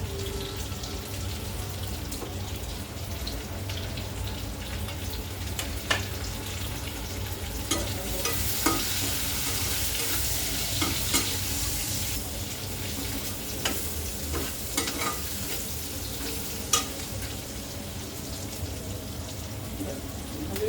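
Onion and green chillies sizzle steadily in hot oil while being stirred for mushroom chili, a close, continuous frying hiss broken by scattered scrapes and clinks of the stirring utensil.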